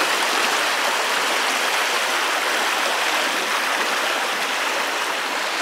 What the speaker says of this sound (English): You got the little babbling of the brook there, and then there's this little rock right there in the middle.